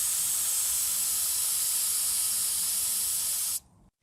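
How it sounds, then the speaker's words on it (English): Air hisses steadily and loudly out of a mountain bike tyre valve with the cap removed, a constant bright rush lasting several seconds before cutting off abruptly. "This means that you can undo the valve cap and take the air out."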